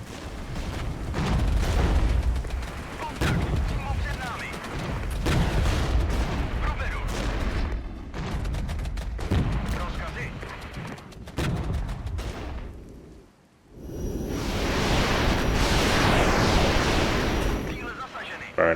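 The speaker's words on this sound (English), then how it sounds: "Let's use some rockets here, see if we can take out the M109s." Rocket artillery barrages in the military strategy game Regiments, targeting M109 howitzers: a continuous roar of booms and blasts, a brief lull near the end, then another heavy burst of explosions.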